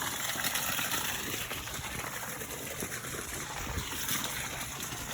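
Water draining out of a household supply pipe while the main water valve is being replaced, a steady close rushing trickle that carries on without pause.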